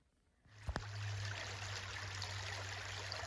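Water flowing in a creek along the Appalachian Trail in Virginia, a steady close rushing and trickling that starts abruptly after a brief quiet moment and continues evenly, with a couple of faint knocks near the start.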